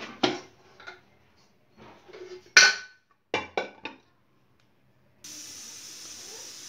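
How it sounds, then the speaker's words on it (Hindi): Pots and utensils clatter in sharp bursts while mutton haleem is prepared. Then a pressure cooker lets out a steady, continuous hiss of steam that runs to the end. "अब कुकर लगा लेंगे।"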